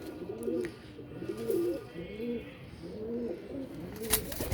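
A pair of Sialkoti gumbat pigeons coos in repeated, rolling low phrases, close and continuous, with a sharp tick near the end.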